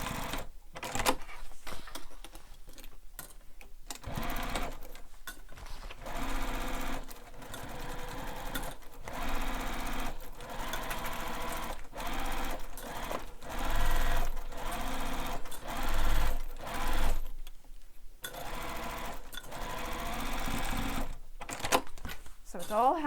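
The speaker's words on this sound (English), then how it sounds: "I'm just basting these together within the seam allowance, and I'm using a long stitch length" Sewing machine running a long basting stitch through stacked fabric layers of a piper bag, a steady mechanical whirring with brief pauses and restarts, up close, with a voice talking over it.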